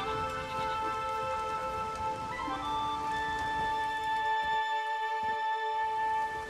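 Steady rain falls in The Witcher 3 video game, a constant soft hiss with sustained tonal music tones layered over it, close and even throughout.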